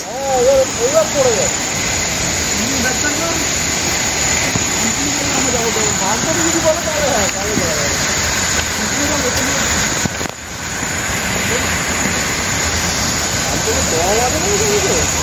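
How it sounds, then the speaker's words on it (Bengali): The Upper Ghaghri Falls at Netarhat pours with heavy water pressure in a constant broad roar, while people talk nearby over the rushing water. "ওই যে এটা হচ্ছে আপার ঘাগরি ফলস।"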